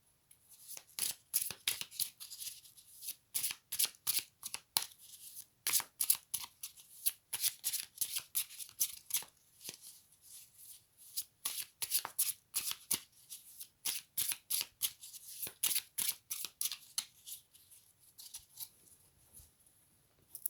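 A deck of tarot cards is shuffled by hand, with rapid bursts of crisp riffling and flicking repeating in close, loud clusters separated by short pauses, heard alone without talking.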